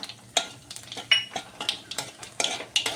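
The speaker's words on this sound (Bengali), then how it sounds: "ওই তেলের ভিতরে আমি একে একে দিয়ে দেব কালো জিরে, কয়েকটা গোটা শুকনো লঙ্কা" Nigella seeds and whole dried red chillies drop into hot oil left from frying fish, with close clinks and scrapes of a utensil against the pan over a light sizzle; no talking.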